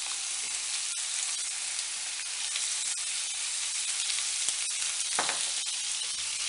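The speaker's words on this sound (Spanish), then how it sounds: "Y lo freímos todo junto." Minced meat frying with ras el hanout produces a constant bright sizzle, close and steady, with faint scrapes of stirring and one brief clatter near the end.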